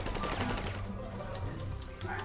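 A quick rattling burst of gunfire in GTA Online, close and fairly loud over the first second, gives way to a few scattered shots with faint background noise.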